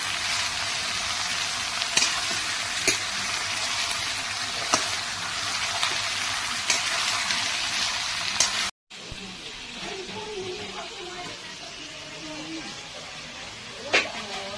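Meat cooking in a wok over an open wood fire, with a steady broadband sizzle and a few sharp clinks of stirring, briefly cutting out before the frying hiss resumes.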